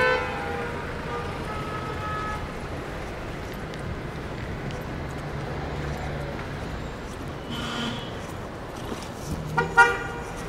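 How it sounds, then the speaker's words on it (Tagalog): Congested road traffic gives a steady engine rumble and background din, and a few short car horn toots stand out near the end. "traffic na dito mga guys"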